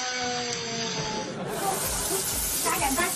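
Chopped tomatoes hit hot oil and scallions in a wok, giving a loud, steady sizzling hiss that swells sharply as they land and keeps crackling close by.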